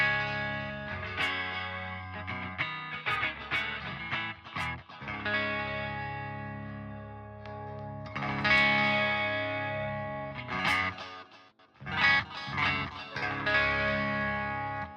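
An electric guitar plays through Poison IR and Venom IR amp-sim plugins, producing chorus-tinged, reverb-washed chords and single-note picking with slight grit, phrases swelling and dropping at moderate volume, with no voices.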